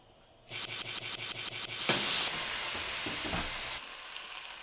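A steak plopped into a smoking-hot pan of canola oil, a burst of loud crackling sizzle following a quick series of rhythmic taps, then settling into a steady, close frying hiss that fades slightly at the end.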